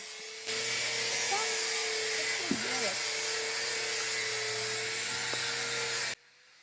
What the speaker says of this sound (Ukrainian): Ми і паркан розбираємо і дошку шліфуємо, готуючи її для наших нових секцій.